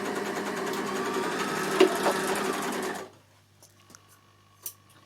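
A Bernina L450 overlocker stitches fabric with a fast, even mechanical whir for about three seconds, close and loud, then stops, leaving a quiet room with a faint hum and a small click.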